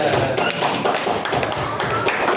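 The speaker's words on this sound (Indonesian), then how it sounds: "Beri tepuk tangan dulu untuk kita semuanya" Fourth-grade class clapping hands together in a classroom, a quick run of sharp, close claps in a loose rhythm, loud and lively over a short span.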